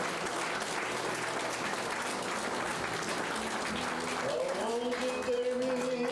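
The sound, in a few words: congregation applauding in church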